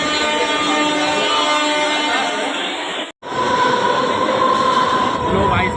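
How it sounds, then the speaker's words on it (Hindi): A moving train in Mumbai, heard from inside the carriage as a steady rumble and rattle with a brief gap around three seconds, while people talk over it. "अभी हम जा रहे हैं ट्रेन से फटाफट से।"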